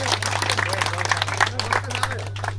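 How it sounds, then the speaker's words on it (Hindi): A crowd at a protest sit-in claps in a dense, continuous patter for a few seconds, steady and fairly close, with a strong electrical hum underneath and voices mixed in. "तालियां हो जाए"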